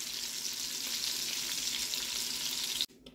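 Sausage browning in a frying pan gives a constant dense crackling sizzle, fairly close and even, cutting off abruptly near the end.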